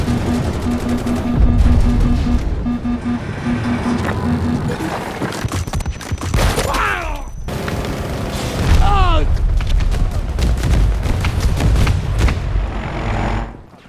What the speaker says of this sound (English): The guns sound fine